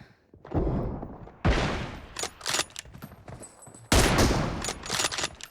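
Sniper gunfire in a PUBG Mobile team deathmatch: loud, sharp shots and bursts ring out repeatedly across the clip, with echoing tails between them and no talking.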